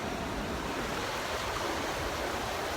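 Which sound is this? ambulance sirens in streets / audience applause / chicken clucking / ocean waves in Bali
ocean waves in Bali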